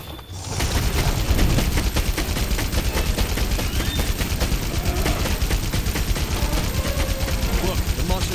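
Fully automatic bowgun fire in Monster Hunter World, a rapid sustained stream of loud gunshot-like blasts with mechanical clatter, continuous for several seconds after a brief quiet start.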